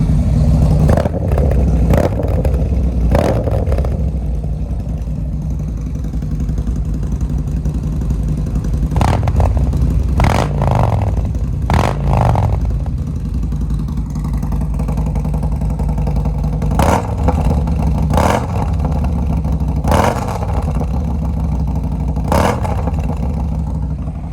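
Harley-Davidson Street Glide motorcycle engines idling loudly nearby with a deep, lumpy rumble, broken by repeated sharp throttle blips and revs throughout.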